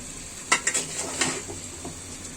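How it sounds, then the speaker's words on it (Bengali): Beef drops into a pot with a couple of sharp metallic clinks, then soft scraping and stirring over a faint sizzle. "দেখুন এই যে মাংসগুলো দিয়ে দিচ্ছি"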